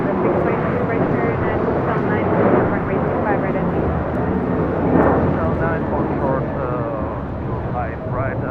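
An Alaska Airlines Boeing 737-800 taking off from LAX makes a steady broadband jet roar that holds level throughout, with people talking over it.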